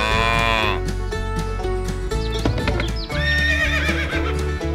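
A loud horse whinny rings out at the start amid busy cartoonish music and farm animal sounds, including a moo and clip-clopping hooves.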